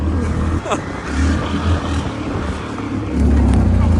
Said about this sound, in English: It's grass. It's making all this noise. We're going nowhere. This thing just spins.